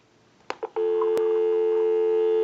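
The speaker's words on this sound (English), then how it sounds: "We'll go ahead and give you some dial tone" A repaired antique candlestick telephone line with a bell box, giving a steady continuous dial tone that starts after a few brief clicks and holds loud and close, with one sharp click partway through.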